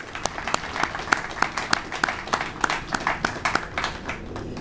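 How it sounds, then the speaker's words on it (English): An audience at a military change of command ceremony breaks into applause, a moderate crowd clapping in quick, scattered claps that sit at a fairly low level. "So please, round of applause for everybody that put"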